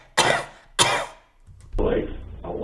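A person coughs twice in sharp, close bursts, then a rougher throat-clearing sound follows, heard alone without talk.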